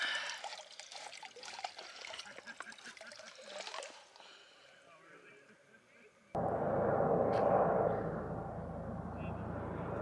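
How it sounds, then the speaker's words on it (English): Water runs from a tap at a water source on the Pacific Crest Trail. A faint trickle sits under brief talk, then the flow turns abruptly into a loud, steady gush that continues to the end. "We got water coming out."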